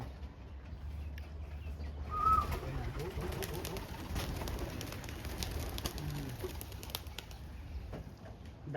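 Racing pigeons coo in a loft, low soft calls repeating close by with wing flutters and rustling, while a person speaks quietly in the background.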